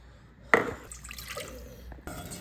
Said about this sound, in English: we're gonna mix equal parts sugar and water in this pan.